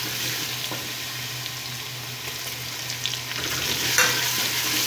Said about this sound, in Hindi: लहसुन अदरक का पेस्ट हमारा फ्राई हो चुका है। अब इसमें टमाटर ऐड करते हैं।